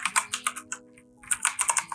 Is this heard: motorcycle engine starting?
no